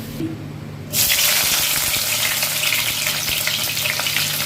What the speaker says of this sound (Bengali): বেরেস্তাটা ভালো করে ভেজে নিই অনেকটা তেল দিয়েছি